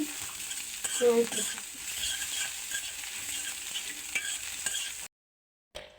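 Cumin seeds frying in hot oil for mini spring rolls, a steady close sizzle with scraping stirs of a spoon in the pan, ending in a brief silence and a last burst of sizzling.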